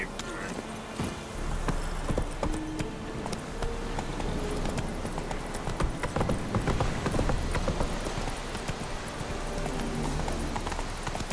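Steady clip-clop of horse hooves plodding along, with a constant background of other game sounds and occasional talking over it.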